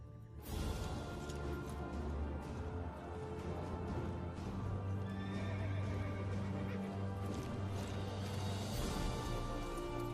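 A horse whinnies close by over steady clip-clopping hooves, with a busy outdoor bustle around it.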